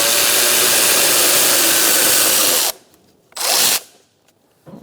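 A socket wrench loosens tray bolts on a 2012-2017 Hyundai Accent with a 1.6L four-cylinder. A loud sustained whir of a power driver runs nearly three seconds, then two shorter bursts follow with quiet gaps between them.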